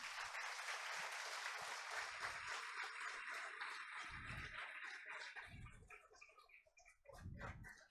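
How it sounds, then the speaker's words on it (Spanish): Church congregation at a Sunday service applauding together, a soft, dense wash of clapping that thins into scattered individual claps and a few separate thumps as it fades toward the end. "Denle un aplauso al Señor"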